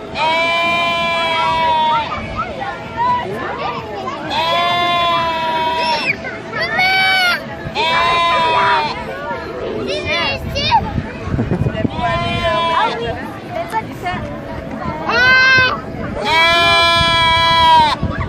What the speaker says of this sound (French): Les petites chèvres.